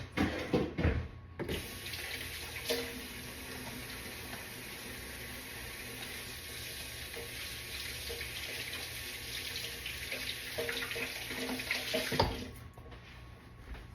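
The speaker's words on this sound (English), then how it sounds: "I always seem to get the egg on me too, and then I have to wash my hands." Tap water running into a kitchen sink while hands are washed during cookie baking, a steady hiss of flowing water after a brief clatter, ending as the tap shuts off.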